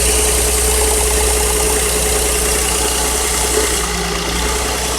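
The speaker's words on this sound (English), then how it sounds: "You hear that sparking? That's a misfire from that one." A 2000 Nissan Maxima engine idling with a misfiring ignition coil, giving a loud, steady close-up running drone with a faint irregular ticking over it and no talk.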